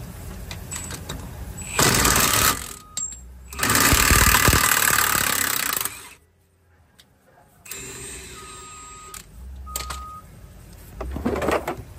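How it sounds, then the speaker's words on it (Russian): At a US junkyard, a car axle shaft is pushed out with a puller. A power tool rattles loudly in several long bursts separated by quiet pauses, with no talking. "Сейчас попробуем так ее вытолкнуть съемником."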